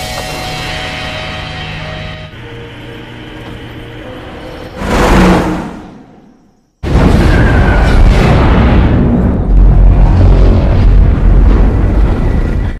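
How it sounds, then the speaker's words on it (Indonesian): A huge film explosion destroying a city roars in with a rising rush, cuts to near silence, then a sustained loud rumbling blast wave with debris and low booming. "terjadi ledakan yang luar biasa yang telah membumi hanguskan kota Ogden"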